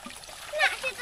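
Water splashes and trickles briefly at a village well as drinking water is drawn, a short close splatter rising midway, with voices in the background.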